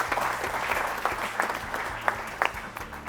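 An audience claps for a team at a PCRA quiz show, a steady burst of applause with some distinct sharper claps, at moderate volume under a low background hum.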